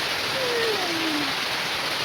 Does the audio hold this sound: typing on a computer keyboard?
no